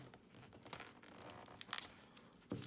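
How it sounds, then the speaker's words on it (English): Knife cutting into and twisting open a dried mango seed husk, a quiet crinkling, tearing crackle with a few sharper crunches, close and faint. "So I'm going to cut right in here. Sort of twist."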